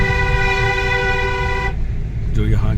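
A car horn sounds one long, steady honk on a winding mountain road in Uttarakhand, loud and close over engine rumble, followed by a shorter second toot as a voice speaks.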